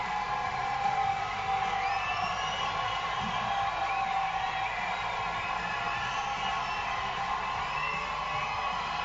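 A crowd at the Aachen World Equestrian Games reining competition cheers and whoops for a horse and rider, a faint, steady roar that continues throughout with no gaps.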